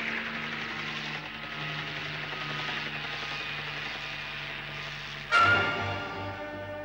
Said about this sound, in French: Oh, l'hélicoptère!